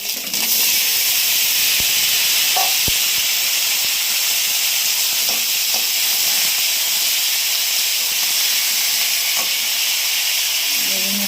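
A pan of fried eggplant gives off a loud, steady hiss as ginger, radish and potato go in, with the sizzle holding constant and a few faint clinks underneath.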